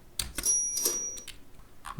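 A cash register sound effect from an editing library plays as a quick run of mechanical clicks and clacks with a ringing bell tone. It is moderately loud, brief and heard alone.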